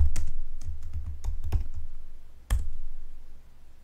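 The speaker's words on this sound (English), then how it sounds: "when you type Azure SQL" Typing on a computer keyboard while searching in the Azure portal, with a quick run of close, crisp key clicks, a short pause, then another burst of keystrokes, heard alone.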